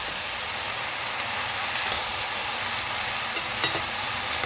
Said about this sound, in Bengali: এগুলোকে ভালো করে নেড়ে চেড়ে নিচের মশলাগুলো ওপরে দিয়ে দিচ্ছি।